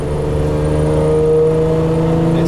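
Steady, loud engine drone of a 1986 Ferrari 412i with its front-mounted V12 and five-speed manual, heard from inside the cabin while driving with windows up and air conditioning on; a constant low hum with slight swelling, no talking.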